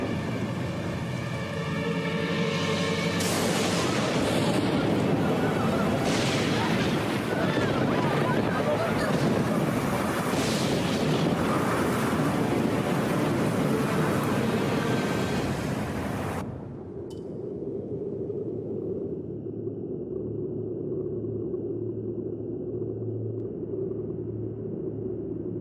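A fierce storm of wind and flooding water in an animated Krishna tale, with a loud, dense roar of gusts and rushing water that cuts off abruptly to a quieter low rumble.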